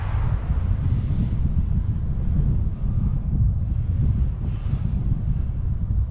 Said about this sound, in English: there's definitely a decent easterly wind.